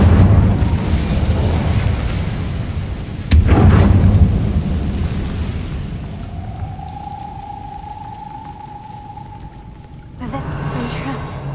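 An Incendio fire spell cast in Hogwarts Legacy erupts as a loud whooshing burst that swells into a rumbling roar and fades into a thin, sustained ringing tone, with a second muffled burst near the end.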